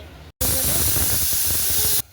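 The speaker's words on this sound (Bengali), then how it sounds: "সিটি পড়ে গেছে" A pressure cooker whistle vents steam in a home kitchen where papaya is being boiled: one loud, steady hiss of about a second and a half that starts and stops abruptly, with no talking.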